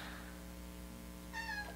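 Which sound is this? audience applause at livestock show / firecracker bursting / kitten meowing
kitten meowing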